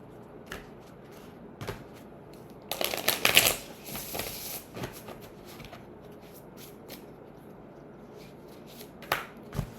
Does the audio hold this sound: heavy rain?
no